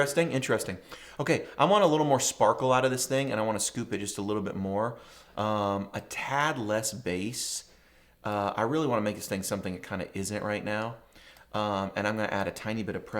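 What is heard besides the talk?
No distinct noise like a dog, phone or traffic.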